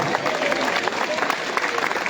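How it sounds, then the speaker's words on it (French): A crowd applauds the mayor at a public event in Pernes-les-Fontaines, a steady dense wash of clapping from many hands, fairly distant and continuous. "Vous pouvez applaudir, merci, monsieur le maire."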